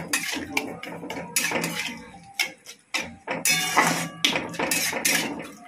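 Olive chutney with sugar stirred through it in a cooking pot: a spoon scrapes and clanks against the metal in irregular bursts, close and fairly loud, with no talking.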